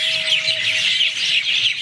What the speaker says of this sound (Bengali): খুব ভালো শোনা যায় পাখির কণ্ঠটা